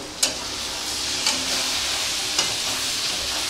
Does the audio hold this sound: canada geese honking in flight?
no